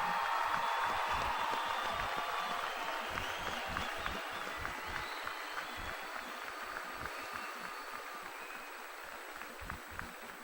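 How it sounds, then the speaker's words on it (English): A steady wash of applause fills a large hall at Michigan State University's College of Education commencement, continuous crowd clapping at moderate distance that stays even throughout with a faint hum beneath. "Let's have one more round of applause for all of the graduates of the College of Education."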